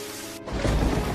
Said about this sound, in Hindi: हे भगवान, इतनी तेज बारिश।